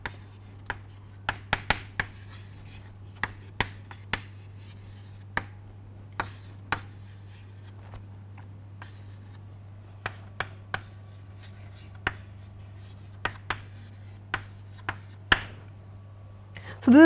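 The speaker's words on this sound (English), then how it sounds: "So let me write here" A pen or marker writes out a gas equation of state on a board, producing short scratchy strokes and sharp taps in irregular bursts over a constant low electrical hum.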